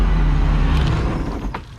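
An old boat engine, left unwinterized and suspected of a cracked block, runs with a loud low rumble, then sputters and dies away into near silence.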